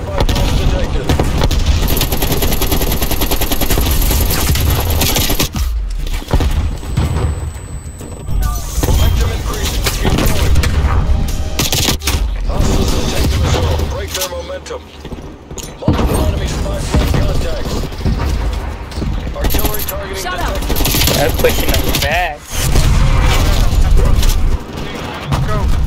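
Grenade throw and gunfire in Call of Duty Black Ops Cold War gameplay, with dense, continuous bursts of game gunfire and explosions running loud throughout while a player shouts over the action.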